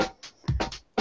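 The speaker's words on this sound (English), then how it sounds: "This is the sound of the phonogene working right now" A phonogene module on a modular synthesizer loops a choppy sound, a rapid series of short bursts and gaps repeating unevenly, with no talking.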